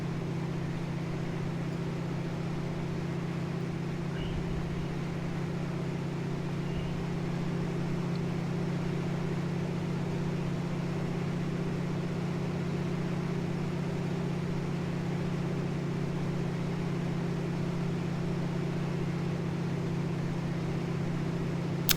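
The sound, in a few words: radial engine of the Milviz DHC-2 Beaver in a flight simulator game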